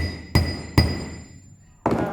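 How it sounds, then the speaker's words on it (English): Three sharp metal hammer blows on wire held with pliers during wire drawing through a drawplate, the first two close together and the third after a pause, each with a short ringing decay. "Keeping the pliers close to the area you're hammering stops rotation."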